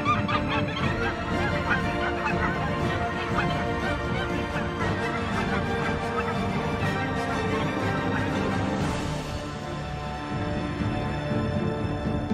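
Geese honk steadily for about twelve seconds as a flock flies south in August, many overlapping calls forming a loud, continuous chorus close by with no talking.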